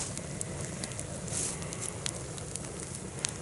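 A campfire burns in a cold, frosty winter forest at dusk, giving a steady soft roar with scattered small crackles and pops, close by and moderately quiet.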